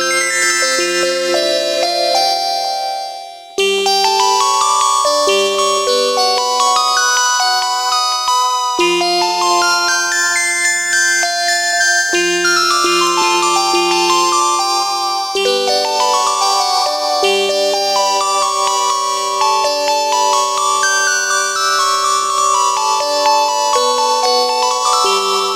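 Layered polyphonic synthesizer presets from UVI Synth Anthology 5 play sustained, bell-like chords and shifting arpeggiated tones, loud and continuous with one brief gap near the start and no talking.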